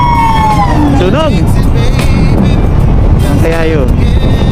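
A fire truck siren wails as it passes along a street in Milaor, Camarines Sur, its rising and falling tone sweeping up and down over steady loud traffic and street noise.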